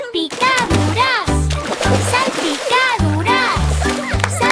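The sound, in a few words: water splashing sound effect in children's song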